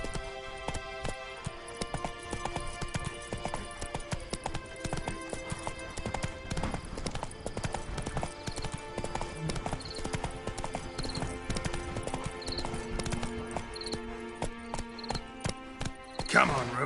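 Hooves of Roach, a horse in a video game, clip-clopping in a steady trotting rhythm throughout, with in-game ambience and a voice talking over parts of it.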